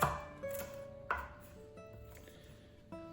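A knife chops vegetables for pico de gallo on a cutting board, a few sharp, separate thuds spaced irregularly, close and fairly quiet against a faint background hum.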